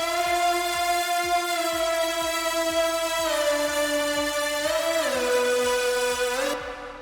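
Layered future bass synth leads, one with a mid-boost EQ and reverb, hold bright, sustained chords that step to new pitches twice, over a steady ticking low beat.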